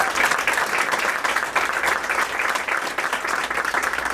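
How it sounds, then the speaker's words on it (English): A room full of people applauds for the Massachusetts legislature at a health center opening, steady dense clapping from nearby throughout, with no voices over it. "And they deserve a round of applause,"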